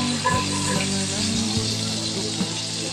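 Plenty of garlic for garlic shrimp frying in a pan of melted fat, a steady close sizzle with faint scraping and light knocks throughout.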